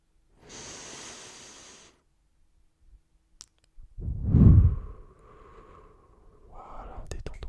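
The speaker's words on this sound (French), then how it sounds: "je vais te demander de prendre une grande respiration. D'accord? On va inspirer ensemble." Slow, close breathing in a quiet room: a soft airy inhale, then a deeper breath drawn in and let out as a long sigh, intimate and whisper-close.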